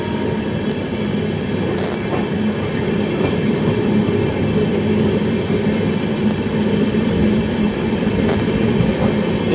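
The Kevadia Jan Shatabdi train with its Vistadome glass coach runs on rails, giving a loud, constant rumble of wheels and carriage noise with faint squeals and clicks over the track, heard from inside and without voices.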